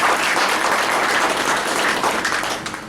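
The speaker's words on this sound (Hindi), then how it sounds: "और एक बार बजाइए जोर से ताली।" Loud, dense audience applause fills the space at a yoga day celebration, steady sustained clapping from a large crowd throughout, easing slightly at the end.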